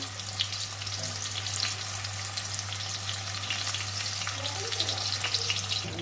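Ginger and a tomato fry in a pan with a dense, steady sizzle and crackle that runs without a break, close and fairly loud, alone with no talking.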